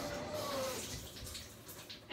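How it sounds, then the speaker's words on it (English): Soft, fairly faint rush of water from a tap turned on for a golden retriever puppy's bath, a steady hiss of running water with a brief squeak near the start. "I'm going to turn the water on for a second"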